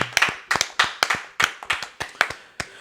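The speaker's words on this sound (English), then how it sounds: "Can we give a round of applause for that speech right there, bro?" Clapping for a speech on a podcast-style show: a small number of hands clap in an uneven rhythm of sharp, close bursts with brief gaps, loud and dry, with no voices over it.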